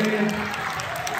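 A chapel audience gives a short burst of applause, a brief, even patter of clapping with a voice faintly beneath.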